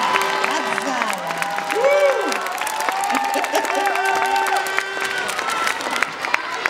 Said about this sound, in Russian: Это вам аплодисменты от зала.